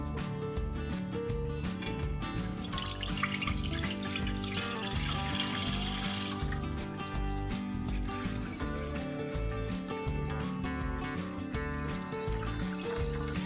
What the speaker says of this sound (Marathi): आता हे पाणी आपल्याला गाळून काढायचं आहे